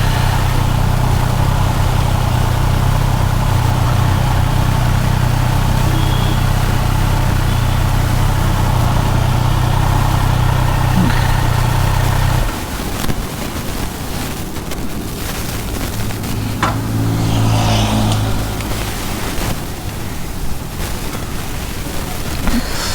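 A Triumph Street Triple RS motorcycle idles with a steady low engine hum, then cuts off partway through as the bike is parked, leaving quieter outdoor background noise with a few faint clicks.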